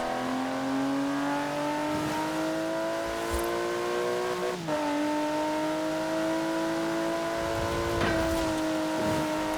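A Land Rover Velar engine in Forza Horizon 4 drones steadily with a high supercharger whine riding on top, shifting pitch briefly as it changes gear, continuous and close.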